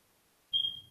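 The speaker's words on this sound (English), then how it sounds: "smoke detector beeping in the background" A smoke detector in a hallway gives a single thin, high electronic beep that sustains for about half a second, with a faint low hum underneath.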